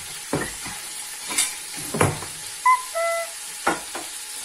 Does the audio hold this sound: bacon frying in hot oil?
yes